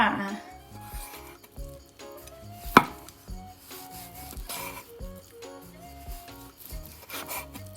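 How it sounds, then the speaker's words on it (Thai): A knife slices repeatedly through boiled pork onto a cutting board in an uneven rhythm, with one sharp knock partway through. "เดี๋ยวเราจะมาทำการหั่นกันค่ะ"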